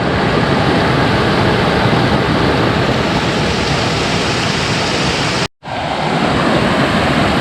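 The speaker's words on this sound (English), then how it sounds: "waterfall pool." A waterfall pouring into a natural pool in Lebrija, Colombia, a dense, loud, continuous rushing roar of falling water heard close up, with one brief dropout near the end.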